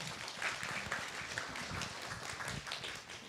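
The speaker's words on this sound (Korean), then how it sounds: "3조에게도 박수 함께 보내주세요." An audience at a 5.18 citizens' forum gives a group of presenters a steady round of dense applause, many hands clapping together at an even level for a few seconds without pause.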